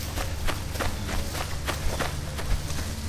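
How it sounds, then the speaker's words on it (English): Footsteps of an unseen creature caught on a trail camera, a steady series of crunching thuds about every third of a second, fairly close over a constant low rumble of wind and background noise. "We don't see the creature, but we hear its footsteps."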